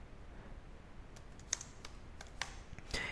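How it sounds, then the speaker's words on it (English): Computer keyboard keys tapped to enter a command, a handful of light irregular clicks at close range, quiet and alone with no talk. "just type the command"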